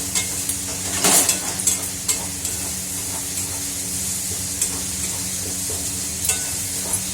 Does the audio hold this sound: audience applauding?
no